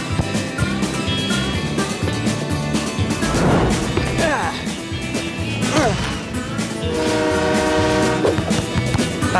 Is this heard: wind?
no